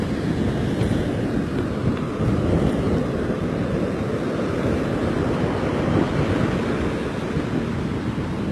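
Hurricane-driven surf crashing continuously onto a sandy beach shore with sandbags and dunes, a loud, steady roar of breaking waves mixed with gusting wind buffeting the microphone throughout.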